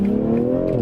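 A 2021 BMW M4 with the S58 engine accelerates briefly, a close, steady engine tone holding and rising slightly over under a second.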